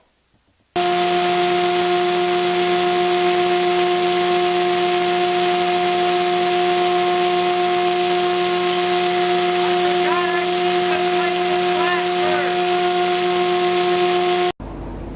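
A bandsaw cuts through knotty wood in a cramped workshop, running as a loud, steady whine with sustained tones for about fourteen seconds before stopping abruptly.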